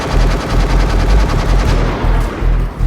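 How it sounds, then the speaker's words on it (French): Sustained automatic gunfire from terrorists emptying their magazines at a police shield during the 2015 Paris attacks, a dense rapid burst of shots continuing loud and close throughout, with no voices. "elle est prise à partie par les terroristes qui vident leur chargeur sur le bouclier"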